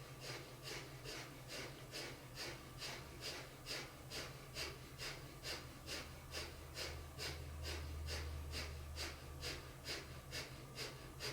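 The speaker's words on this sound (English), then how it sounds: "slow, deep breathing or breath of fire." Rapid rhythmic breath of fire in a Kundalini yoga class, with steady sharp nasal exhalations pulsing continuously at an even pace, close and moderately loud and sustained with no talking.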